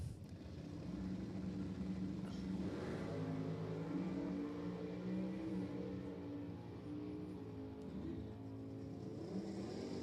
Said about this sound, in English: Supercharged Challenger boogieing down the left side goes 861, 157 miles an hour.